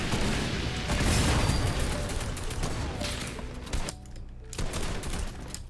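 Gunfire in a Fortnite match hits gas cans, with loud rapid shots and bursts filling the first few seconds, then scattered sharper pops and clicks as the chaos thins out.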